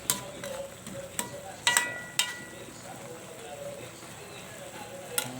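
Laing, taro leaves in coconut milk, simmers in a pot with a soft, steady bubbling hiss, broken by a few sharp clinks of a utensil against the pan.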